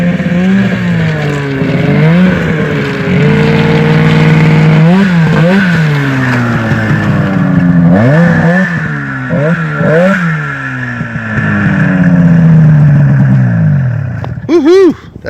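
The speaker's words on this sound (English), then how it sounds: "Halfway Hollywood showing us his new snowmobile" A new snowmobile engine revs repeatedly, rising and falling in pitch with several sharp throttle bursts, loud and close throughout, ending in a quick high rev.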